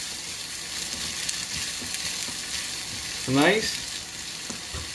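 Beetroot puree cooking in a pan with a steady close sizzle and a short stirring scrape, while a voice briefly speaks.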